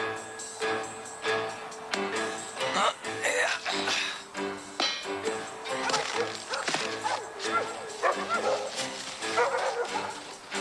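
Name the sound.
dogs barking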